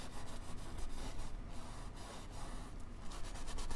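A paintbrush scrubs color onto a barn painting in a steady, close, continuous scratchy rubbing with no pauses and no voices.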